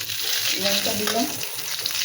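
Green chilies dropped into hot oil left over from frying fish, giving a loud, continuous crackling sizzle close up, with a faint voice briefly underneath.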